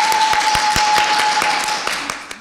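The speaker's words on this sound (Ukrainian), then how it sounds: "І аплодисменти." An audience applauds at an award ceremony during a city day celebration, with a burst of dense, loud clapping that fades slightly toward the end.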